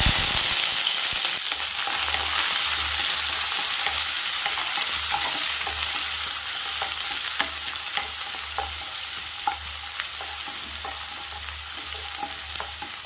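Small onions, fennel seeds and curry leaves sizzle steadily in hot oil in a pan while being stirred for a mutton gravy, a close, dense frying hiss running throughout with no talk.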